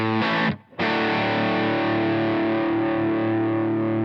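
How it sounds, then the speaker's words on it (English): Electric guitar distorted by a Benson Preamp pedal feeding a clean amp, a dense crunchy chord struck, briefly cut, then restruck and left to ring loud and sustained, alone without voices. "And this is with the Benson Preamp."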